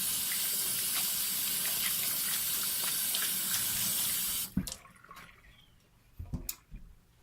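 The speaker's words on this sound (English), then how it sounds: "I'm going to wash this stuff off my hands real quick." Running tap water gushes steadily into a sink while hands are washed, a continuous close splashing rush that cuts off abruptly, leaving a few faint drips and handling sounds.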